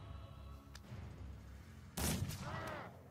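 A single heavy, booming shot from a warplock gun in Mordheim: City of the Damned bursts out midway over a low rumbling ambience, then rings and decays, with no talking.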